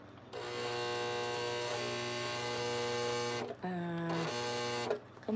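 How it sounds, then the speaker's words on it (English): A sewing machine runs steadily on heavy-duty material near a D-ring, a continuous motor whine with harmonic drone that briefly stops and restarts twice near the end, with a voice talking over it. "Come on, you was sewing just fine a minute ago."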